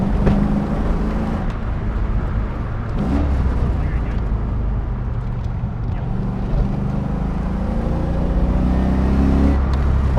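An LS V8-swapped Nissan 240SX S13 coupe, an L33 engine set up for grip driving, drones steadily from inside the cabin with a deep, constant engine rumble, while the driver talks over it.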